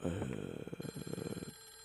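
A telephone rings inside the Clock Tower: The First Fear video game as a loud, dense electronic trill of rapid repeated bursts that cuts off abruptly after about a second and a half.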